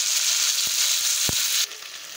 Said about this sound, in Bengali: এবার ভালো করে কষাবো, যতক্ষণ না মশলার কাঁচা গন্ধটা যাবে।